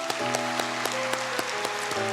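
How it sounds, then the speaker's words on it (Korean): Welcoming applause from a church congregation during a Sunday service, quiet and spread out, with sparse individual claps over sustained organ or keyboard tones. "환영의 박수 치겠습니다"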